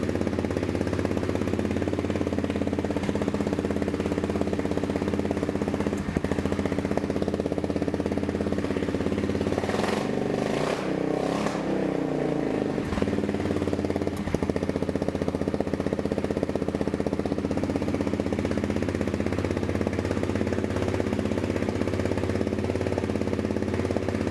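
An Aprilia Pegaso 650 motorcycle engine idling with a lean-running fault, a steady loud clattery thrum held throughout, briefly rising and wavering in the middle, with no talking.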